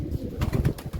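A pigeon during flight training, with soft low cooing and fluttering bursts close by, a few rhythmic pulses within about a second of outdoor background noise.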